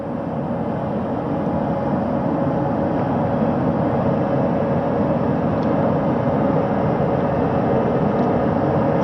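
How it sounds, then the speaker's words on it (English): Helicopters on the flight deck of the USS John P. Murtha spin down after a splashdown recovery, a steady broad roar of turbine and rotor noise holding loud and even throughout. "crew waiting before getting out for the helicopters to completely shut down."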